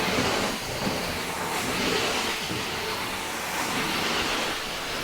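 Carpet cleaning machine spraying its jets at 180 PSI over a carpet, a loud steady broadband hiss and rush that fills the whole clip without letup.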